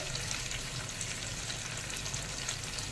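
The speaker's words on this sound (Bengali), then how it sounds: "এবার এটা আমি এই গরম তেলের মধ্যে দিয়ে দিচ্ছি।" Mustard and green chili paste with a little tomato frying in hot oil, giving a steady, dense sizzle that stays loud and even throughout with no talking.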